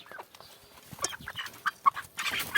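Three-month-old MasterGray chickens, a broiler-like breed, clucking in short scattered calls close by, with soft rustling between the clucks and no talk.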